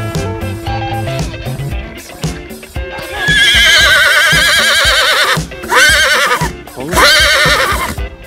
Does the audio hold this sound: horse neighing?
yes